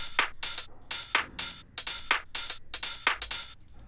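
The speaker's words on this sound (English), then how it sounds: "then you can place this closed hi-hat right before the open hi-hat comes" Closed and open hi-hats tick and hiss through a future house drum loop, bright short strikes cycling in a quick repeating groove, alone and close without any talk.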